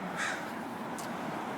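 A crow calls outdoors during a walk, giving a fairly close caw near the start and a fainter, shorter second call about a second later over steady background noise.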